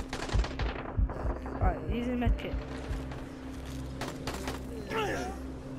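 Gunfire from a DLC weapon in Dying Light, bursts of rapid shots spread across the clip amid game ambience, with a voice speaking over parts of it.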